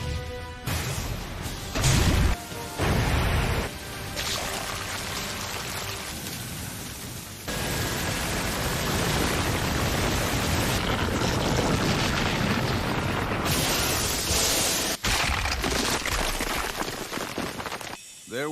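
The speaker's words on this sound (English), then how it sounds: "The oil on its surface increases in temperature precipitously, which in turn causes rapid vaporization of the water inside, resulting in a steam explosion." Anime steam explosion effect from Naruto, with hail striking a sand clone: a long, dense crackling roar with sharp bursts and shifting blasts, loud and sustained for most of the span with abrupt cuts.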